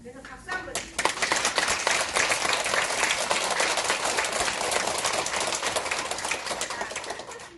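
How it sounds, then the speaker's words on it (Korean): An audience at a health and nutrition talk bursts into dense, loud clapping that starts abruptly and keeps up steadily for several seconds, with voices mixed in. "그래서 박수 한번 주세요."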